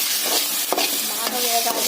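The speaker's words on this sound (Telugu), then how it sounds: "ఉల్లిపాయలు అల్లం వెల్లుల్లి వేగేసినాయి ఫ్రెండ్స్." Onions, ginger and garlic fry in a pan while being stirred, a steady close sizzle broken by a few scraping strokes of the spoon.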